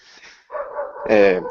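A dog barks and yips in a short burst of a few calls, fairly close, after a brief faint whine, with no talking over it.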